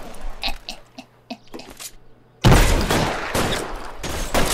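Shootout gunfire in the L.A. Noire video game, starting with quieter scattered shots and then breaking into a loud, dense volley of near bursts that keeps up to the end.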